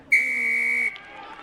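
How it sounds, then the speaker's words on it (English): A single sustained, forceful referee's whistle blast signalling a Zebre penalty at a rugby scrum against Wasps, loud and piercing over faint stadium crowd noise, then fading. "A forceful peep on the Irish whistle to signal a Zebre penalty at the scrum."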